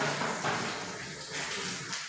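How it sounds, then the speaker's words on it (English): A tap runs steadily, a continuous hiss of flowing water splashing into a basin, close and unbroken. "probably hearing the water in the background."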